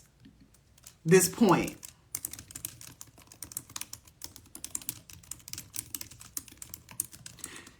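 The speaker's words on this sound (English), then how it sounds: "Let me type it down so I don't forget." Typing on a computer keyboard: a rapid, steady patter of close key clicks that runs under a person's talk, after a brief louder burst near the start.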